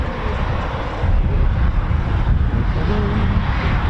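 A Eurofighter Typhoon FGR4 jet flies at RAF Coningsby, its loud continuous broadband roar swelling slightly partway through, with some wind buffeting the microphone.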